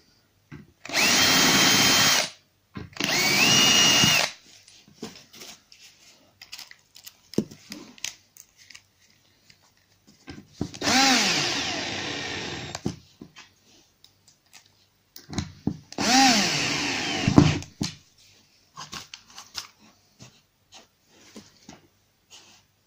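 A power drill drives screws through cupboard door hinges into the frame of a tall basement cupboard, with four loud whirring bursts of rising and falling speed, two close together at the start and two later, separated by quiet handling clicks.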